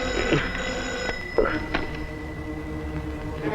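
A telephone bell rings indoors in a Malayalam film scene, with a few short ring bursts near the start standing out over a steady background hum, with faint voices around.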